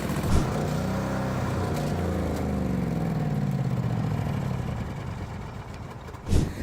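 A fire truck engine runs on with its fuel supply shut off, a steady mid-pitched idle with a faint clatter, holding even for several seconds before fading slightly near the end.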